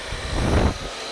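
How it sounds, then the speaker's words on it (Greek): A handheld hair dryer blows while hair is styled with a round brush during a straightening blow-dry, a steady close whooshing roar with a brief swell as the airflow shifts. "Το πιστολάκι ακολουθεί."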